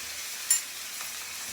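Fish curry stirred in a pan, a quiet steady sizzle with one brief scrape of the spoon, close and alone.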